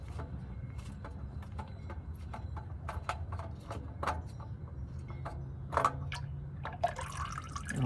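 Engine oil from a 2021 Toyota Camry dripping and trickling into a drain pan during an oil change, a steady run of small irregular drips and splashes over a low garage hum, fairly close.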